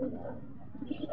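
Racing pigeons coo softly at the loft after arriving home, a low, steady murmur of repeated coos with a few brief brighter chirps near the end, moderately close and fairly quiet.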